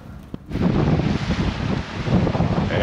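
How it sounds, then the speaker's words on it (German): Strong 20-knot wind roars steadily across the microphone, mixed with rushing water against a moving sailboat off Raiatea and Tahaa, French Polynesia, loud and continuous after a brief quiet start. "Bei 20 Knoten Wind fahren wir nach Taha"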